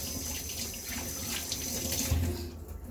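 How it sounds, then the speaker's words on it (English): Tap water runs steadily into a kitchen sink during handwashing while baking a sweet potato pie, a continuous close splashing hiss with no talk over it. "I'm washing my hands, guys."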